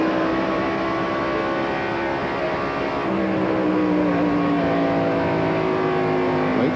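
NASCAR stock cars race at the 1994 TranSouth Financial 400, with loud, continuous engine roar and rising and falling pitch as cars pass one another close by, and no talk.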